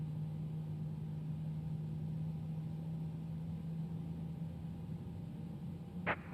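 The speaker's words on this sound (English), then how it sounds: "Love the sound of these engines as well, man." Airbus A321neo jet engines idle in the X-Plane 11 flight simulator with the Toliss mod. They make a steady, moderate low drone with a faint hiss, and a brief whine rises near the end.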